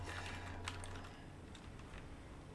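Computer keyboard keys pressed rapidly while playing the Crashed Lander game, with several fingers working six buttons at once; a steady, dense patter of close clicks with a low hum underneath and no talk.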